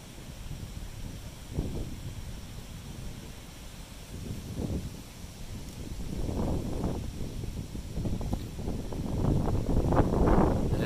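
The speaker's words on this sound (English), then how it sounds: "It's getting windy." Gusty wind sweeps through trees during stormy weather at Disney World around Halloween. It makes a low, rushing roar with repeated surges of rustling and microphone buffeting, growing stronger toward the end, with no voices.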